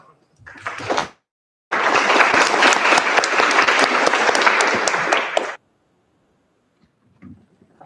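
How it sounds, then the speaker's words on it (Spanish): An audience at a children's rights law congress applauds to welcome a speaker, a steady burst of loud, dense clapping lasting about four seconds, preceded by a short earlier burst of claps and followed by quiet. "la introducimos con un aplauso"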